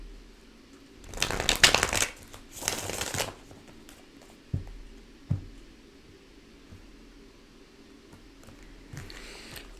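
Tarot cards are riffle-shuffled twice in quick succession, each a loud, close burst of papery rustle, followed by soft taps and handling as the deck is set down.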